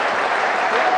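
A boxing exhibition crowd gives a dense, loud wall of applause, steady clapping with no break over a short moment.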